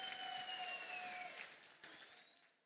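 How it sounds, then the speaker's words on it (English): Crowd applause at a boxing event after an eight-round fight, fairly faint and fading out, with a sustained tone from the arena sound system over it at the start. "a huge round of applause for both of these warriors going the distance of 8"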